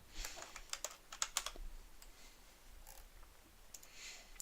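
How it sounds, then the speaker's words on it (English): Bursts of clicky computer keyboard typing, close and fairly quiet, with short pauses between flurries of keystrokes and a faint room hush underneath. "I am apparently terrible at typing this out."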